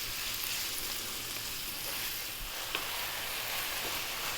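Minced beef for chili con carne frying in a pan slightly above medium heat, giving a steady, dense sizzle that holds evenly throughout with no voices.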